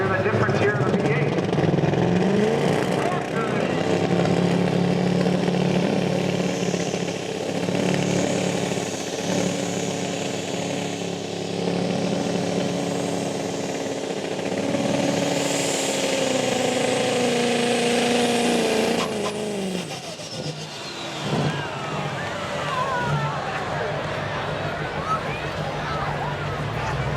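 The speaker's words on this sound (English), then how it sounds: "You hear the difference here in the V8." Ford Power Stroke V8 diesel truck engine at a tractor pull in Langford, New York, roaring loud and sustained for about twenty seconds, then cutting off as crowd noise and an announcer's voice carry on over the engine.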